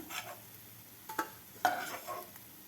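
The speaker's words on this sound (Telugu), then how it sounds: "ఫ్రై చేసుకుందాం ఇలా గోల్డెన్ రంగులో వచ్చేలాగా ఎంచుకోవాలి" Bread pieces fry golden for bread halwa in a pan, a quiet sizzle punctuated by a few sharp stirring clinks and scrapes against the pan.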